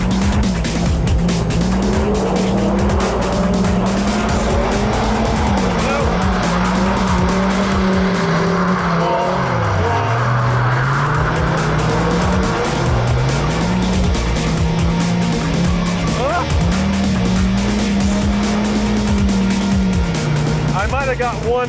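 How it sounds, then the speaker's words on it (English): Supercar drifting on a wet track, engine droning loudly throughout with long wavering tire squeals that rise and fall as the car slides, a person talking over it. "I might have got one brief drift in there for about 5 seconds, but in the wet, this is just extremely difficult."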